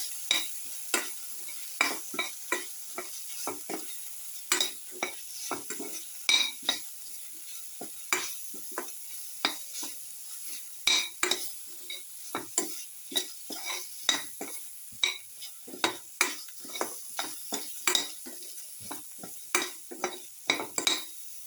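A spoon stirs coriander powder into a sizzling mixture in a frying pan while cooking pepper shrimp vermicelli pasta. Sharp metal scrapes and taps repeat irregularly over a soft background sizzle, close and clear.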